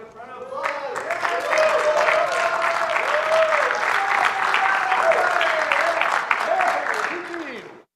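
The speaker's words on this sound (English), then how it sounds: "let's give him a round of applause" An audience at a blockchain and sustainable economic growth panel event claps in a sustained round of applause lasting several seconds, with a voice speaking over it near the start and end.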